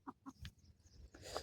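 Chicks and hens clucking close by at a backyard chicken coop, a few short separate calls at the start, then a denser, higher cheeping burst toward the end, with no talk.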